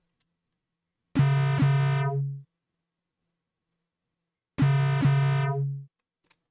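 A dry Serum synth bass in a hard trap-style beat plays two identical sustained notes, each with a quick double attack and a buzzy, harmonic-rich tone, separated by silence and with no added effects.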